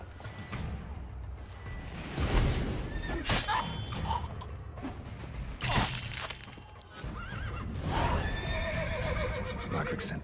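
Horses neigh and whinny in a video game, with several loud whinnies over clip-clopping hooves while characters talk throughout.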